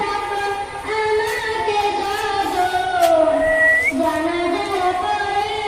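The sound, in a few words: toy train at park station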